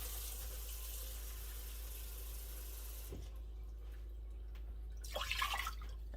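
Water runs steadily from a tap for a few seconds for a vinegar brine, then stops, followed by a brief splash and clatter of liquid at close range.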